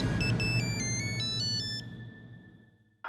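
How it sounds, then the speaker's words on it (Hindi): A telephone ringtone plays a bright melodic electronic pattern at moderate volume over a low background hum, then fades away near the end. "सतीश को फोन करके देखती हूँ"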